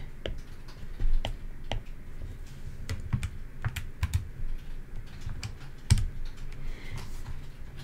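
Quick, light key presses on a calculator tap out in irregular bursts, close and crisp, with brief pauses between entries.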